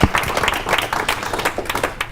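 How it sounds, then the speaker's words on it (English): A classroom audience applauds after a group presentation: a short burst of clapping that starts sharply and then carries on as uneven, moderately loud claps. "Applause for the next group."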